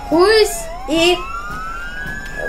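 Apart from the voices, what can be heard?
police car siren in Roblox Jailbreak video game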